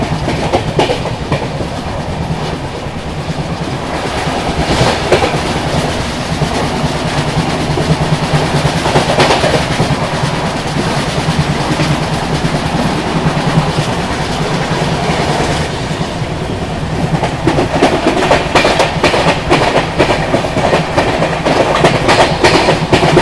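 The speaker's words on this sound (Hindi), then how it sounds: "अपनी कुशीनगर एक्सप्रेस निकल चुकी है मुंबई के LTT रेलवे स्टेशन से" Kushinagar Express rolling at night after leaving Mumbai LTT station, heard from inside as a loud, steady rumble with repeated clickety-clack of wheels over rail joints, continuous throughout with no talking.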